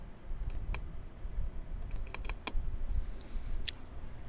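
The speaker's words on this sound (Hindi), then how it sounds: "तो चलिए हम उस पर क्लिक करते हैं।" Sharp, dry computer mouse clicks at close range, several scattered single and double clicks over a quiet room hum, with no talking.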